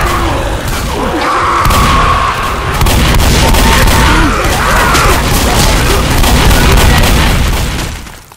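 Shotgun blasts and heavy booms in Left 4 Dead multiplayer co-op, loud and dense with mechanical clatter amid constant game noise, no talk heard.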